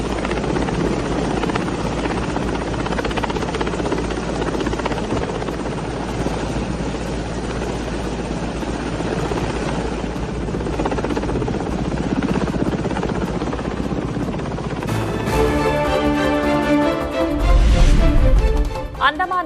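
A rescue helicopter's rotor thumps and engine drone continuously, close and loud, before the sound cuts away to a different scene near the end.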